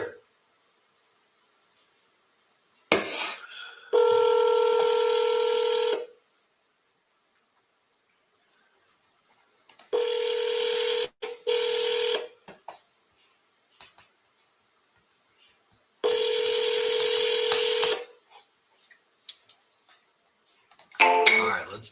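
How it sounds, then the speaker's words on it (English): A phone placing a call: steady ringback tones sound in three long bursts separated by pauses, with a faint high whine throughout and no talking. "let's double dial this one and text them."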